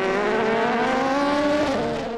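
Endurance race cars in the 4 Hours of Monza scream past one after another, engine notes rising and sliding as they pass, loud and close with no talk.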